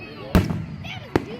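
Fireworks bursting over a park at a public display, two sharp booms about a second apart, with excited voices talking around them.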